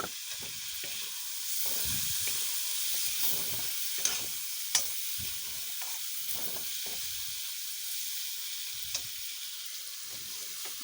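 Fried potatoes and mushrooms are sautéed in a pan, with a soft continuous sizzle and repeated scraping stirs, plus a few sharp clinks of the utensil against the pan, without speech.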